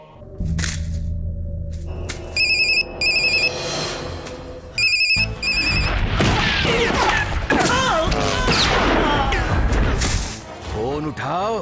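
A phone ringtone chimes in short repeated bursts, then gives way to loud, overlapping shouting voices and clattering for the rest of the stretch.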